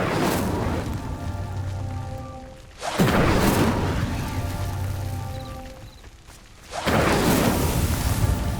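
Hogwarts Legacy's Incendio fire spell bursts into roaring whooshes, three loud surges of flame with crackling rumble between them over a steady game ambience.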